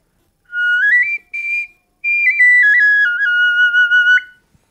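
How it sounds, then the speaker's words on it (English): A bone whistle blown as a bird call gives clear, loud, high tones in three bursts: two short rising notes, then a long wavering call with pitch steps, with no talking. "you can make whistles like this to call in birds"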